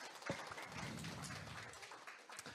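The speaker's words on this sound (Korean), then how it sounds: "큰 박수 부탁드립니다." Applause from an audience at an elementary school teachers' union general meeting briefing, a sustained spread of clapping after one sharp opening clap, filling the room at moderate level without speech.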